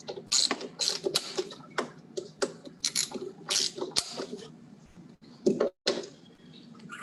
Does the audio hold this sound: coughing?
no